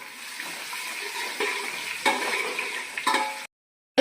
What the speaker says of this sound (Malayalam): ഇനി നന്നായിട്ട് ഇളക്കി കൊടുക്കാം.